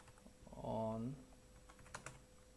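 Code typed on a computer keyboard, heard as sparse, faint key clicks, with a voice speaking briefly at the start and a small cluster of taps near the end.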